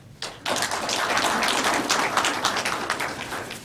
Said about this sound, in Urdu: سارے اجلاس میں پہلی مرتبہ آپ نے تالی بجائی ہے